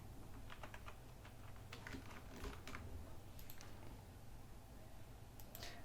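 Light typing on a computer keyboard at a desk during design work, scattered soft key clicks in short bursts and pauses, close but quiet over faint room hiss.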